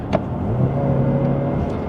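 A Mazda CX-30 Aire Edition with a 6-speed automatic accelerates, giving a steady, moderately loud engine drone that holds an even pitch without any clear shift. No one speaks over it.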